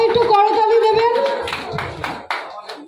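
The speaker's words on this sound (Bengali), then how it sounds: "সবাই একটু করতালি দেবেন" A small group at an outdoor garden meet-up breaks into scattered hand claps after a voice speaks. The claps come as sharp, close, uneven bursts that thin out toward the end.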